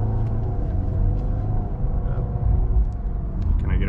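A Ford F-150 pickup with a 5.4 three-valve engine rumbles as it speeds up in a turn lane, a loud low drone that swells steadily from inside the cab, with no talking.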